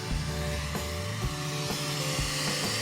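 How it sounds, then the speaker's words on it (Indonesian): The cooling fan of an Epson L1300 printer runs with a steady mechanical whir and hum, broken by a few short rhythmic clicks or knocks, close and alone. "bunyinya tuh terasa banget. Bunyi kipas."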